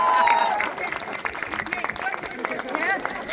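Applause from the audience at a Christmas programme in Himachal, a loud burst of clapping with crowd noise and some voices mixed in, tapering slightly but continuing throughout.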